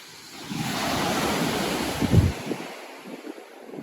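Ocean surf washing onto a remote, empty beach on the Dampier Peninsula in Western Australia, a steady broad roar swelling and breaking once, with wind buffeting the microphone and no talk.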